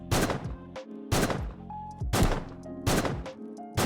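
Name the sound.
gunshot sound in a video game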